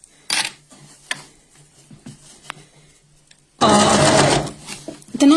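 An overlocker sews fabric around corners, starting with a few short mechanical clicks and taps, then a loud rapid whirring burst of stitching running for over a second before stopping.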